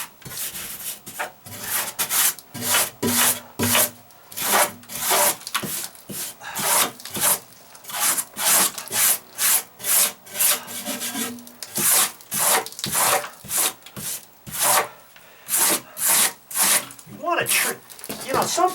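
Rotted wood on an outdoor deck being scraped down by hand, heard as a close, steady series of rough rasping strokes in a regular back-and-forth rhythm, continuing throughout with some background sound mixed in.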